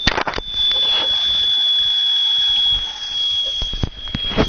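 A small motor gives off a high, thin, steady squeal that holds for a few seconds before fading, with clatter and knocks around it.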